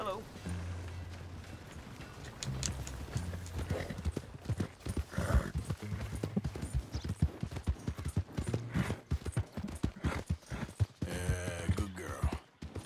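Horse galloping in Red Dead Redemption 2, a rapid loud clip-clop of hooves running throughout, with someone talking over it.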